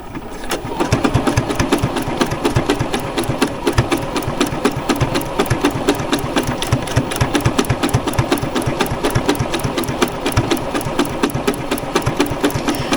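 A new sewing machine stitches through fabric in a steady, rapid mechanical chatter that runs close and loud from start to finish, with no talking over it.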